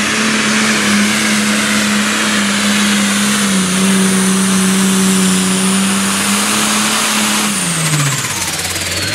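A 600 diesel farm tractor from a team of four tractors runs loud and close at an outdoor event in Frederick, Maryland, holding a steady heavy drone before the revs fall away near the end.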